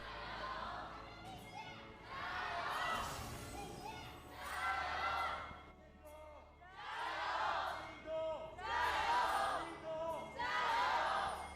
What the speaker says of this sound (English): Solid crowd chants as ever.